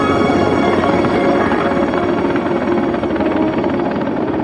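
A Soviet Mi-10 heavy-lift helicopter roars loud and close, its rotor and turbine noise a dense continuous drone with a faint rhythmic beat.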